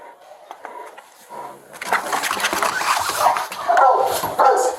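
Police dog barking and whining during a search for a hidden suspect, agitated yips building into louder sustained barks over the last three seconds, fairly close with room echo.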